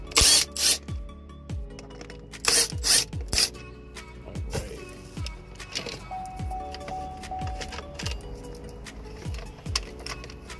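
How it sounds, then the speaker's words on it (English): A 7 millimeter driver works screws out of a 2013 Cadillac ATS radio unit, giving several close bursts of ratcheting, scraping clicks in quick groups, with faint metallic rattles and small screw ticks between them. "we're going to use a 7 millimeter and drive these out and see what we get."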